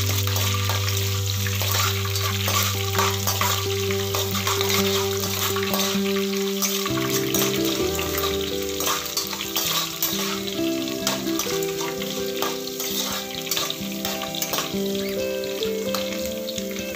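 Green chillies fry in a pan for samba wheat kichdi, giving a steady sizzle and bubbling under a continuous layer of background music, with no talking.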